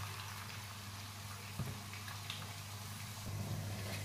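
Turmeric fries gently in 200 grams of ghee in a kadhai, a faint, steady low bubbling sizzle with a couple of soft knocks.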